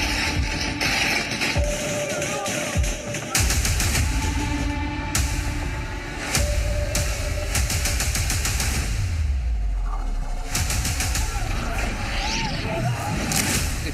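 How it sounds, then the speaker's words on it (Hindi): Bursts of gunfire from a Pakistani army shooting crack out in rapid, repeated volleys over about fourteen seconds. The sharp shots are loud and close, layered over a dense, noisy background. "क्योंकि गोलियों की बौछार है"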